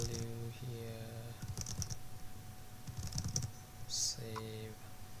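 Typing on a computer keyboard, bursts of quick clicks separated by pauses, close, mixed with a humming tonal background and brief voice-like sounds.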